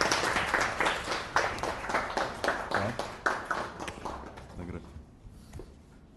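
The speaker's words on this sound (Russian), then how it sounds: "аплодисменты, друзья" Applause breaks out at an agreement signing between the parties Unity of Abkhazia and the Young Guard of United Russia in Abkhazia: dense, close clapping that thins and fades away near the end.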